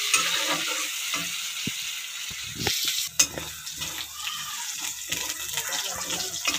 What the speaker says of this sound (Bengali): অল্প রসুন কুটা দিয়ে দিলাম। নাড়াচাড়া করে নিই।